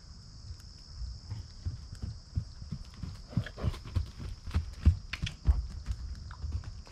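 A horse's hooves thud in irregular clip-clop rhythm during canter transitions, starting softly and growing louder and heavier as strides pick up, heard at close range over a high steady electronic whine.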